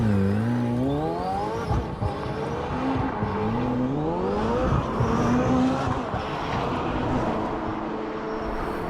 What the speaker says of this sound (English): The E-motors and the gears, they make a little bit of a weird noise.